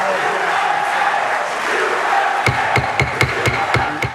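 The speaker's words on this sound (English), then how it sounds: "applause broke out as the 33rd vote in favor of gay marriage was announced" A crowd in the Senate chamber murmurs and cheers, then clapping breaks out in distinct sharp rhythmic claps over the continuing crowd noise.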